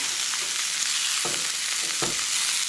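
Elk back strap steak searing in a hot pan, sides pressed down, gives a close, constant hissing sizzle. Two brief duller bumps from the meat being shifted break through the sizzle.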